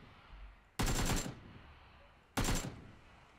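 Two loud bursts of rapid gunfire in PUBG, each about half a second long, separated by a short pause, sounding close and harsh.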